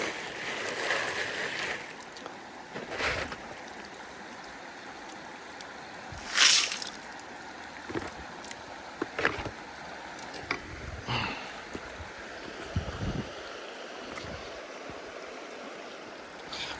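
River water is scooped into a bucket while gold panning, with faint trickling and sloshing plus scattered splashes and knocks over quiet running water.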